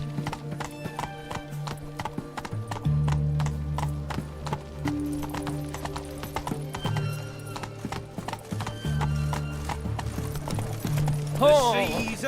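Hooves clip-clop rhythmically as Geralt's horse Roach gallops in The Witcher 3, steady and close under game music, with a horse whinny near the end and speech-like game audio.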